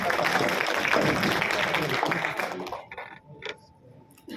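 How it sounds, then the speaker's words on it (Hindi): An audience claps loudly to welcome a guest at a talk on children's rights, dense applause running about two and a half seconds before breaking up into a few scattered claps. "सर एक बार जोरदार ताली से सर का स्वागत करें"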